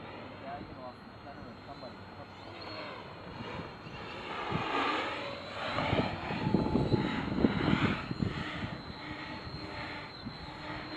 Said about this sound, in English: That's pretty cool being able to do that with a quadcopter.